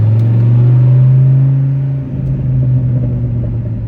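A Dodge Ram SRT-10 pickup with a Viper V10 engine idles close by, a loud, steady low rumble that dips briefly midway and then settles back into an even drone, with no talking.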